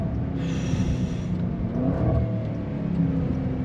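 A 2024 Jaguar F-Pace SVR performance SUV engine accelerating, a steady loud rumbling drone from inside the cabin that swells slightly midway, with no talk over it.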